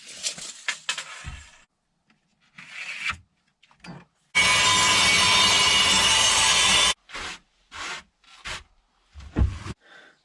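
Lengths of piping being cut to size with a hand saw for a car camper bed build. A loud, close rasping saw stroke runs steadily for a few seconds and is framed by short clunks and handling knocks.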